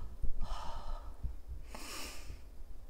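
A storyteller imitates the snoring of a sleeping dinosaur, two drawn-out breathy snorts in a row, soft and close, with faint breath between them.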